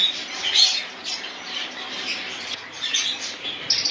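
Several pet lovebirds, cockatiels and budgies squawk repeatedly in shrill, scratchy bursts at a bird sale, close and fairly loud, with no talking.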